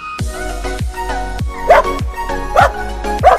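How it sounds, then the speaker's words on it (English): A dog barks repeatedly at close range, giving several sharp, loud barks at a fairly even rhythm with low thumps between them. "Dog."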